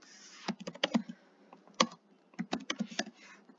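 Quick bursts of close computer keyboard typing while coding, clustered clicks with short pauses between, alone and fairly quiet.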